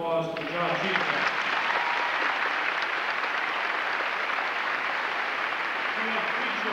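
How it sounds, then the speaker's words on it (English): Audience applause fills a high school graduation ceremony, a broad steady wash of clapping that starts after a brief moment of voice and carries on loud and unbroken for several seconds. "Let's give her a round of applause for the job she has done."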